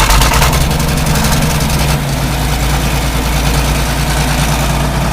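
John Deere 4230 tractor engine running just after starting, a loud low diesel idle with steady throbbing rumble that settles after a brief change in pitch, close and alone without talk.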